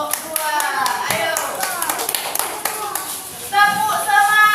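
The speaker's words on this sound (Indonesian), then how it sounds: "kita beri tepuk tangan untuk kelompok 2" Children in a classroom clap for a project group, an uneven patter of claps under a teacher's voice and children talking, ending with a brighter burst of voices.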